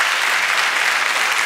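A studio audience on a Turkish TV show claps steadily for a singer, with dense, even applause at moderate distance throughout.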